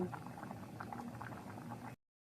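Nam ya pa soup with meatballs, chicken feet and fingerroot (krachai) boils in a pot, giving a soft, steady, close bubbling that runs on quietly alone and then cuts off abruptly.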